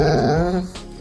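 A dog growls low and rough, then breaks into a brief whimper, close and loud in a single short burst.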